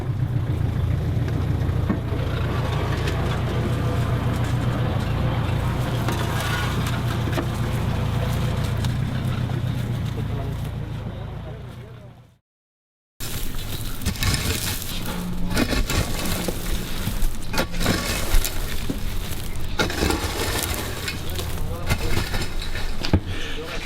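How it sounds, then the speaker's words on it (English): Frozen ice wine grapes being processed in machinery at harvest, producing a loud continuous grinding, crushing rumble that cuts out briefly halfway, then resumes rougher and noisier. "That's the sound of ice wine."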